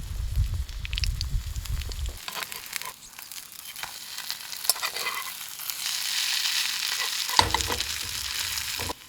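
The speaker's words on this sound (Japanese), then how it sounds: "裏面もカリッと焼いていきます。" Steady sizzling of dumplings frying in sesame oil on a gas camping stove in snowy cold, crackling continuously and fairly close, with a few brief clicks and scrapes along the way.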